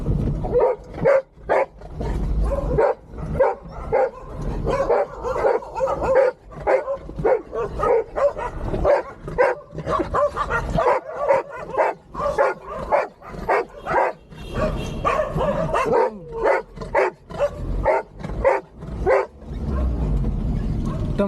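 A dog barks repeatedly in rapid, insistent bursts with occasional whimpering yips, loud and close, continuing nonstop near a Maruti Suzuki Zen 2001 car.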